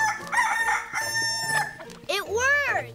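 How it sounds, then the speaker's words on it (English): A cartoon rooster crows loudly, a clear rising-and-falling call that follows a busy stretch of animated sound and other clucking fowl noises. "Or maybe he's crowing because we're bothering him."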